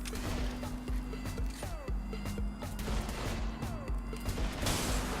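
Gunfire in the open-world action game Saints Row: The Third, shots and crashing impacts blended with a steady music bed, dense and continuous throughout with no clear separate bursts.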